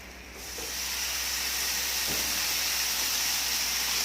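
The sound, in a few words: water added to curry paste sizzling in pan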